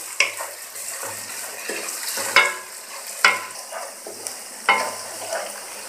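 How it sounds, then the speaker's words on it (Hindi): Garlic ginger paste fries in a pan over low heat while being stirred, soft continuous sizzling broken by sharp scrapes and clicks of the spoon against the pan every second or so. "लहसुन अदरक का पेस्ट डालने के बाद 2 मिनट तक इसको मैंने भुना है"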